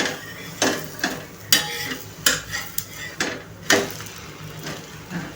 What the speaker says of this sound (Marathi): आता आपण पलटून बघूया बेसन पोळी दुसऱ्या बाजूनेही शिजली आहे की नाही।